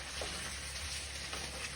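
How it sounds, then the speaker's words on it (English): Soft, steady sizzling of diced russet potatoes frying gently in a little oil, quiet and close with faint crackles and no talking. "I'm gently frying in a little bit of oil 5 russet potatoes that I diced"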